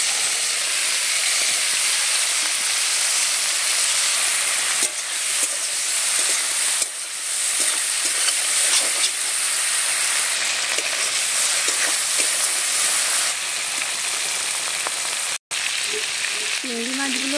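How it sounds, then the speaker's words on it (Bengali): Prawns frying in hot oil in a pan, a loud steady sizzle and hiss running throughout with no talk. "চিংড়ি মাছগুলো ভাজা হয়ে গেছে"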